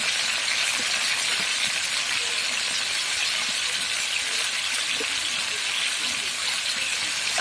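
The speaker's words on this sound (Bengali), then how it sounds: "আলুটা ভেজে নিচ্ছি, চিকেনটা ভাজবো না, আলুটা ভাজবো" Potatoes sizzle in hot oil with a little salt, giving a steady, close hiss of frying with faint crackles and small stirring clicks throughout, alone with no voices.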